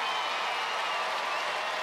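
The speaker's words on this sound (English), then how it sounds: "I think a big round of applause is in order for Paul" Studio audience applauding on a 1995 Australian Gladiators episode, a steady dense wash of clapping throughout the short moment, loud and continuous with no talk.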